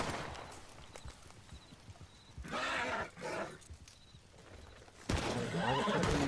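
Horse neighing and hooves clip-clopping in Red Dead Redemption 2 online: a loud whinny burst mid-clip, then another strong neigh with hoof noise near the end, over a steady game ambience.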